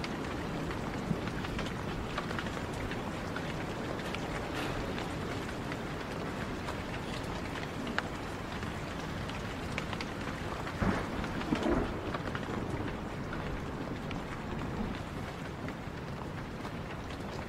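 Heavy rain pours steadily in the horror game Blair Witch, a dense constant hiss with low thunder rumbling beneath it, loud and enveloping throughout with no voices.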